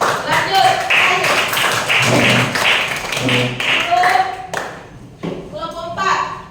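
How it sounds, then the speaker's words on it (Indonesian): A primary-school class claps hands together during a religion lesson, a burst of uneven applause mixed with children's voices, then tapering into scattered claps and talk. "Tepuk tangan."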